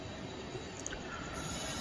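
A Vande Bharat train rolls past on the line with a steady rumble of wheels on rails, faint and continuous, with a brief high squeal partway through.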